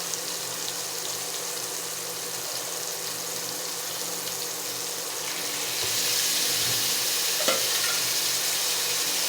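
Pork added to a pan with tomato and onion fries with a steady, close sizzle that grows louder partway through, punctuated by a few light clinks and stirring sounds, with no talk.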